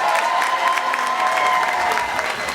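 Crowd applause and cheering for a steel band at the UK Panorama competition, a steady wash of clapping with a sustained tonal hum running underneath, filling the whole moment.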